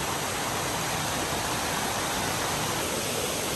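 Amruthadhara waterfall at Maredumilli, flowing at low volume, gives a dense, constant hiss of falling water that stays even and close for the whole stretch, with no voices over it.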